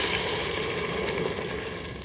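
Food sizzling and sautéing in an Instant Pot while preparing a Thanksgiving dish, a steady, close, broadband frying hiss that holds evenly throughout with no talking.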